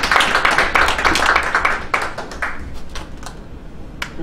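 A small forum audience at a talk on real estate law and taxation claps to welcome a presenter, with steady scattered hand claps that thin out and fade toward the end.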